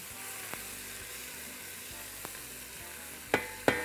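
Ghee, sliced onions and cubed garlic sizzle steadily in a pan, a soft continuous frying hiss broken by a few sharp clinks of a stirring utensil, louder toward the end; nobody talks.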